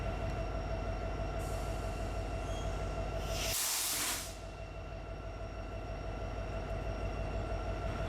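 A CPKC freight train rolls past close by, its steady rumble and clatter of railcars continuous throughout, with a burst of hissing air brakes in the middle.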